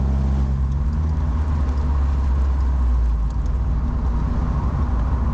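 A 2007 Chevy Cobalt SS engine drones loud and steady while driving, a deep low rumble with a mid-range hum that holds its pitch throughout, and no voices.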